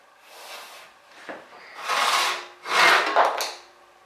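A western backless handsaw cuts through a wooden workpiece held at about a 45-degree angle, giving a few slow rasping strokes that grow louder and closer, with no talking.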